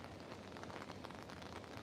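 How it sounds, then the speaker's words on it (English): Steady rain falling at Cabarita Headland, a dense, even patter that fills the short stretch without a break or voice. "Hasn't stopped raining all day."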